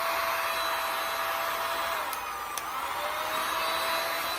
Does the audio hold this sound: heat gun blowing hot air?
yes